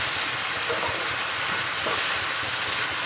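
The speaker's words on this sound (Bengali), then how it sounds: "এইভাবে নাড়িয়ে ঝিঙ্গেটাকে আমি ভেজে নেব।" Ridged gourd stirred and fried in a pan gives off a dense, loud, steady sizzling hiss that fills the whole moment without pause or talk.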